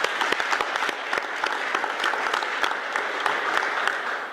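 An indoor audience at a hotel project announcement claps in a dense, sustained round of applause, steady and fairly close, with no talk over it.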